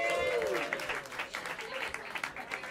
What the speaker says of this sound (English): a big round of applause for Jason Clutter.